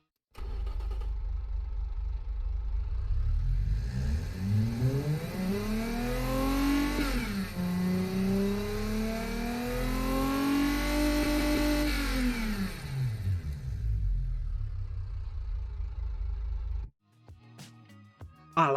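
Simulated car engine in the game Automation revving up through rising and falling pitch sweeps, a steady loud mid-range drone lasting about seventeen seconds before cutting off abruptly.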